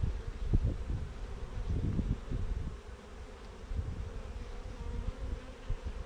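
Honeybees buzzing around an open hive's exposed brood nest, a steady low droning hum of many insects close by, with faint rustling and no talking.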